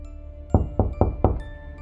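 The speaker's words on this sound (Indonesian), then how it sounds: "tiba-tiba pintu yang menuju ke halaman belakang diketuk 3 kali" Knocking from outside on a door leading to the back yard: four sharp, evenly spaced raps over a low background hum, fairly close and clear.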